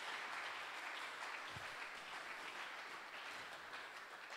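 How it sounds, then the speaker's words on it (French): A church congregation claps together in dense, sustained applause that carries steadily for several seconds at a moderate distance. "you can clap for Jesus"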